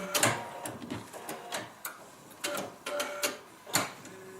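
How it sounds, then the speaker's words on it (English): A sewing machine runs with sharp, irregular clicks as the needle punches through paper, fairly quiet with a soft mechanical hum between clicks. "That little clicking noise you hear is the needle going through the paper."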